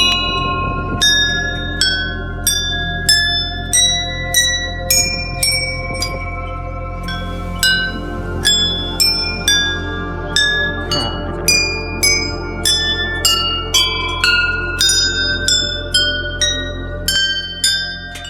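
Many temple bells ring at Kartikeya Swami temple, a steady series of bright metallic strikes at differing pitches, each decaying with long shimmering tails, close and loud, without speech.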